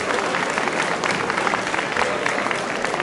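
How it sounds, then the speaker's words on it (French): Steady, dense applause from a crowd at a rally awards ceremony, continuous and fairly loud throughout with no pauses. "Applaudissements pour les commissaires"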